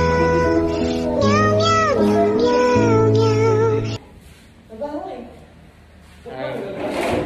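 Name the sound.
cat meowing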